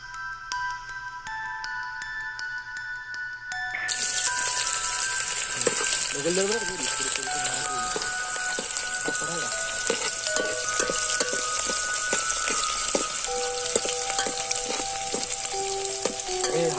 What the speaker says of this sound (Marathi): तेल तापल्यानंतर खमंग असा कांदा त्यात भाजून घेणार आहोत.